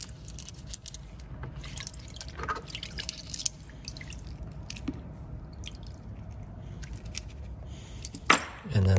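Water drips and splashes while ratchet bits are rinsed off, a soft, steady wet trickle with scattered drips, ending in a louder splash and handling noise.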